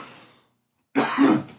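A single harsh cough bursts out after a brief silence, close and fairly loud, preceded by a faint murmur.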